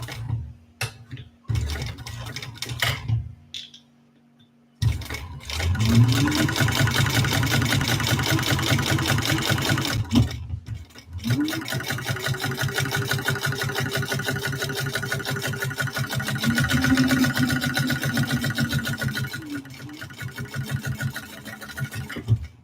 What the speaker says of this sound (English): now we're going to sew that down with the seam allowance in the pattern